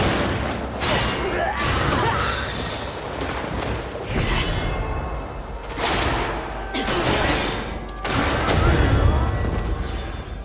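Bursts of gunfire and booming impacts in the video game Crimson Desert, loud and close, coming in several separate volleys with brief lulls between them.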